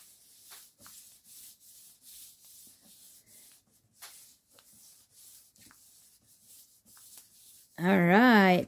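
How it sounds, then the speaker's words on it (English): Steady rubbing and scraping as a folded paper flap is burnished flat against a tabletop, a dry repeated swishing in short strokes for several seconds, ending in a brief loud burst of another sound. "fold it down onto the table, and then I'm just going to make sure, burnish the heck out of this, and make sure it is nice and adhered"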